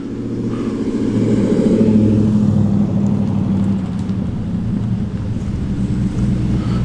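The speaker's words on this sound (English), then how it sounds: "We've got a gaggle of fruity sounding kit cars coming in now, headed up by this V8 Cobra." V8 Cobra kit car arriving at an outdoor classic car show, a deep burbling engine rumble that swells close then settles into a steady idle-like growl with lighter engines behind it.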